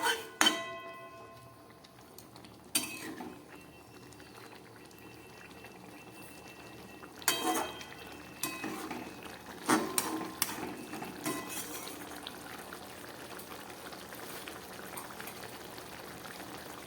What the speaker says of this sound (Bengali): তরকারিটা একদম ফুটে উঠেছে।